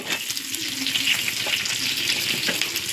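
Fenugreek seeds, vadagam and onion hit hot oil with a loud, dense crackling sizzle that runs unbroken and close throughout.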